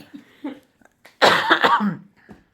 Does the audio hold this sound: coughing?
yes